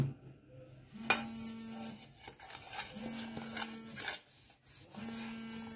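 Oil being rubbed around the inside of an aluminium cake tin: repeated faint swishing, scraping strokes over a steady low hum, with no talking.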